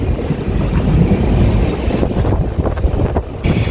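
A train rumbles steadily along the rails through Mayiladuthurai Junction, India, with rhythmic clickety-clack and wind rush, loud and close, a brief squeal near the end; no talking.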